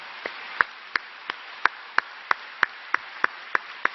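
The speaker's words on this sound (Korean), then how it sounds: "큰 박수로 영광을 올려드리겠습니다" A single person claps slowly and steadily in a church congregation, about a dozen sharp, evenly spaced claps over a faint background hiss, with no one talking.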